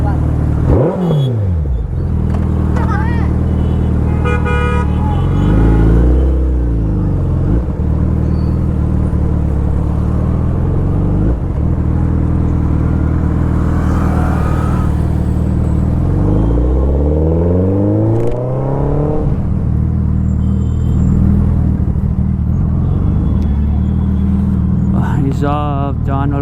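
A loud Suzuki Hayabusa superbike engine revs repeatedly, rising and falling in pitch over a steady idle rumble, with voices talking nearby.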